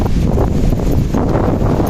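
Steady wind blowing across the microphone, a continuous low rumbling rush with no breaks, loud and close throughout.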